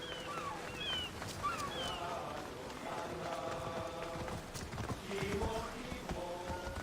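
Horse hooves clip-clop at a steady trot in Assassin's Creed Odyssey, accompanied by harbor ambience and some background tones.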